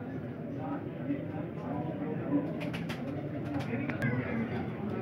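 Teddy and Golden pigeons offered for sale in Lahore coo softly and repeatedly in the background while someone talks almost continuously over them.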